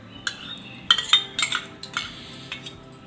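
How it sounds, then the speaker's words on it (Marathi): A spoon whisks yogurt in a bowl, a quick run of bright metallic clinks and taps against the bowl rim, close and uneven, with short quiet gaps. "दही थोडंसं फेसून घेऊ"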